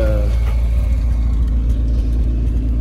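A Fiat Tempra drives along with its engine rumbling steadily, a loud, continuous low drone with no voices over it.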